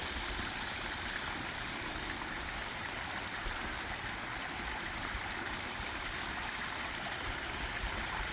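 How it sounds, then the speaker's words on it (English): Several garden waterfalls spill into a lower pond, a steady, close rush of falling water that holds unchanged throughout with no voices. "top waterfall there, the second one here, third little one there, and then of course the fourth one into the lower pond"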